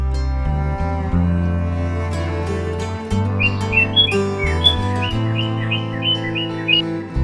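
A cartoon bird chirps in a series of quick, bright whistled notes over a steady backdrop of music, the calls repeating in a light, bouncy rhythm near the middle of the scene.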